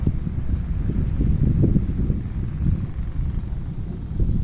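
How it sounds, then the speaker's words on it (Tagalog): Strong wind buffets the microphone in a steady low roar with gusts swelling and easing, and no one speaks. "Hindi ko alam kung uulan, pero sobrang lakas ng hangin."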